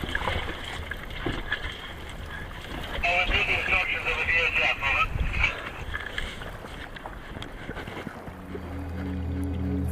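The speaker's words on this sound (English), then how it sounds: "the safety boat does a pass-by to check and see if I'm still alive" A safety boat's engine drones and swells as it passes nearby in thick haze, with water splashing and wind buffeting the microphone, then a low steady motor hum settles in.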